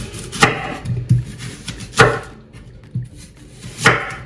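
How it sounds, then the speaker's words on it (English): A knife dices apples on a cutting board in a few uneven, sharp knocks with short pauses between, close and clear. "so I will now dice the apples"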